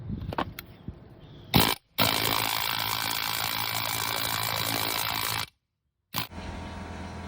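A pneumatic air hammer rattles in loud, rapid bursts, pushing out a stuck leaf spring bushing on a Jeep YJ Wrangler: a short blip, a long sustained hammering run, then silence before another burst starts.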